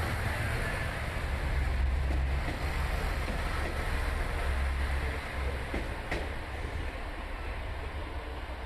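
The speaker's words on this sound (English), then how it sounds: "The Kiha 187 series diesel train, which was Super Oki No. 1," A Kiha 187 series diesel train idles or moves slowly at a station track, giving off a steady low engine rumble with a constant hiss, and a few faint clanks over it.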